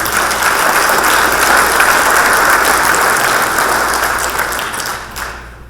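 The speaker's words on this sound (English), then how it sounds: "So an applause for all the supporters of the College." An audience at a Marshall University Hall of Fame induction ceremony applauds the college's supporters, a loud, dense wash of clapping that holds steady for several seconds before tapering off at the end.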